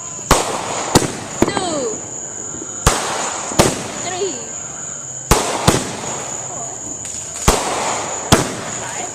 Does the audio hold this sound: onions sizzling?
no